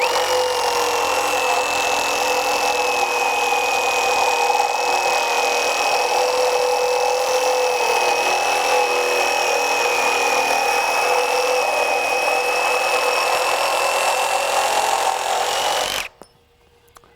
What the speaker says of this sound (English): we're going to do a metal cut